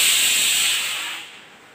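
A pressure cooker vents steam in a loud, sustained hiss that slowly tapers and fades over under two seconds, heard close and alone.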